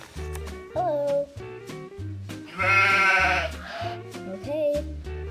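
Sheep bleat repeatedly on a farm, several loud, close wavering cries in quick succession over a low rumbling background, with one longer, brighter bleat in the middle.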